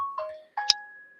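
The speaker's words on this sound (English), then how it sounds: "literally as soon as I picked my phone up to turn the ringer down, it started beeping" A mobile phone gives a few short electronic beeps and tones, one sharp chime standing out, with a sustained tone lingering; close and fairly quiet, no talk.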